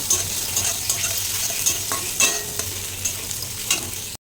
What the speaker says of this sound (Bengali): এবার আমি কেটে রাখা টমেটোগুলোও দিয়ে বেশ সুন্দর করে ভেজে নেব